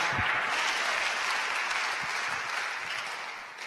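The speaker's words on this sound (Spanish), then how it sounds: "Démosle palmas al Señor." Church congregation clapping for the Lord during a sermon, a dense, steady wash of applause from many hands filling the room, tapering slightly toward the end with no speech over it.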